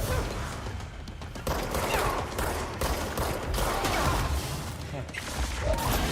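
Bursts of gunfire in the video game Control, several loud rapid shots and impacts in uneven clusters over continuous action noise, with a voice speaking at times.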